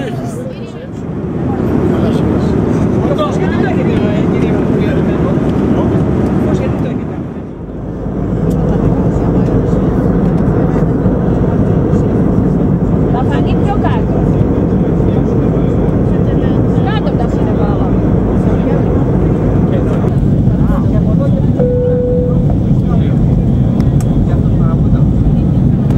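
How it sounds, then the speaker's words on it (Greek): Steady, loud cabin roar inside an Air France airliner descending toward the airport, with a brief lull about a quarter of the way in before the drone resumes; voices murmur beneath the engine and air noise throughout. "Το αεροπλάνο μας της Air France συνεχίζει την καθοδότητα μας στο αεροδρόμιο"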